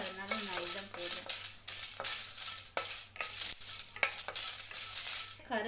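Dried red chillies and curry leaves roast in a pan, stirred with repeated dry scraping strokes and light rattles over a low steady hum, fairly faint and close.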